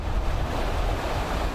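Strong nor'easter wind buffets the microphone over crashing surf along a flooded New York area coast, a loud, dense, unbroken roar for a second or two.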